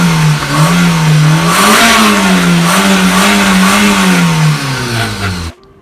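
A 10-year-old Maruti Suzuki WagonR VXI revs close to its exhaust, the engine note loud and steady as it rises and falls in gentle swells for about five seconds before cutting off abruptly.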